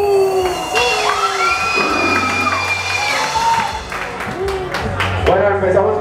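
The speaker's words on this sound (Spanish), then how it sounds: "un fuerte aplauso para él y a su banda" A crowd at a live hardcore punk show cheers, whistles and applauds a band in a loud, continuous roar with piercing whistles rising above it, close and dense with shouted voices.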